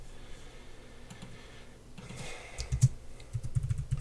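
Quiet tapping on a computer keyboard, with irregular clicks that start sparse and grow denser and louder toward the end, with no voices over them.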